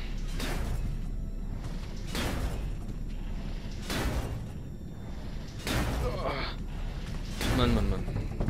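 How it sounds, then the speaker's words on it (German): Something rattles and bangs at a door in the SAW horror video game, giving about five loud, harsh bursts spaced a second or so apart over a steady rumbling background. "Da rüttelt irgendetwas an der Tür."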